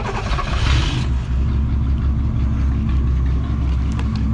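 A 1962 Ford Falcon Tudor with no muffler cranks, then its engine settles into a rough, steady low idle. A brief burst of noise at the start gives way to continuous rumbling.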